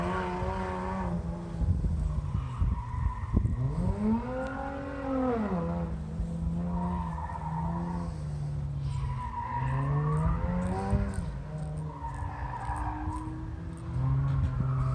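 A car skids and its tires squeal during a King of the Heap race lap at a Mr. Gasket event, with engine revving and repeated swooping squeals that carry clearly above the background.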